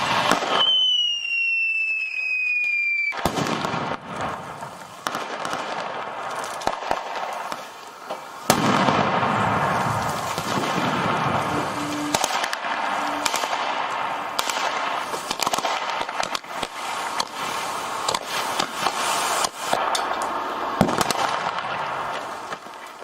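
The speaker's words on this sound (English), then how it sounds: "Russian soldiers stationed near the Ukraine border and conducting tactical exercises complete with gunfire and missiles." Russian soldiers near the Ukraine border fire weapons and missiles during tactical military exercises. A thin whistling tone opens, then dense rapid cracks and bursts of gunfire go on continuously with sharp louder blasts, some distant and some close.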